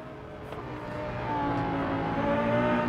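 A car driving the Nürburgring circuit among other traffic, a steady engine drone that grows gradually louder and rises slightly in pitch as it accelerates, with no speech.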